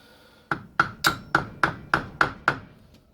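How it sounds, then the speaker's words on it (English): Eight evenly spaced, crisp taps of a soft hammer on a hard object, likely fitting dowels during a Honda CB350F motorcycle engine top-end rebuild, close and moderately loud, each ringing briefly before the next strike. "Get my softish hammer."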